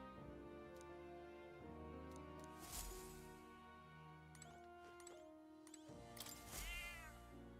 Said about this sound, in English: That's a good kitty.